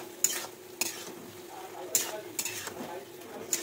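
A utensil stirs fried pointed gourd and drumstick pieces into a spiced curry, making several distinct scraping strokes against the pan over a quiet, low sizzle.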